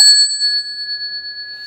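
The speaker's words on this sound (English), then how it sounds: "one of them took a meditation bell and went" A meditation bell struck once, its bright sustained ring holding steady and slowly fading over nearly two seconds with no voices.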